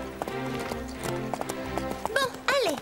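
Horse hooves clip-clop in a steady rhythm of distinct clacks under background music, with a couple of whinny-like rising cries toward the end.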